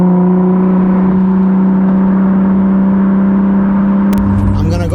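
A 1000hp Toyota Supra running with its turbocharger removed drones steadily from inside the car, a loud, even engine hum that shifts and rises near the end as it starts to accelerate.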